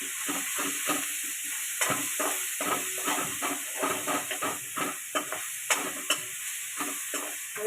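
Turmeric and garlic chutney being stirred into vaghareli khichdi in a hot pan, a steady sizzle under repeated scraping spoon strokes, close and fairly loud with no talk.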